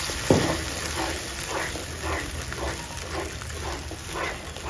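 Cornflour mixture being stirred into veg Manchurian sauce in a pan, giving a steady wet sizzle with soft repeated scraping strokes throughout, no talking.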